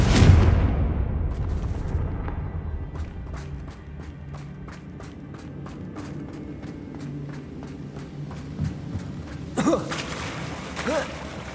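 A Confringo spell blast in Hogwarts Legacy hits with a loud boom at the start and fades into a rumbling tail, followed by scattered crackles and small impacts.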